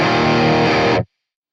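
A thick, heavily distorted electric guitar chord through an amp modeler set for 80s metal rings loud and sustained for about a second, then cuts off abruptly into silence.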